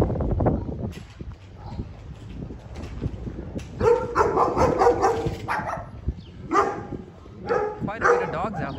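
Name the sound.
dog barking in a Tijuana neighbourhood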